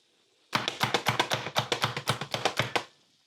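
A knife chops a sweet onion on a cutting board in rapid, crisp strikes, about twenty close, loud taps in a fairly even rhythm, starting after a brief silence and stopping abruptly.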